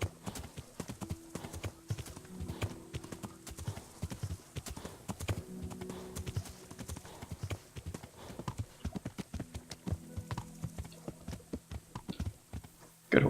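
Horse hooves galloping in the video game Kingdom Come: Deliverance, a rapid, continuous clip-clop of close hoofbeats with brief tonal snorts and a faint voice underneath.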